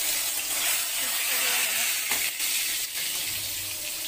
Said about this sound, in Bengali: আমাদের তেল গরম হয়ে গেছে এবার আমি এটার মধ্যে তেজপাতা শুকনো লঙ্কা দিয়ে দিলাম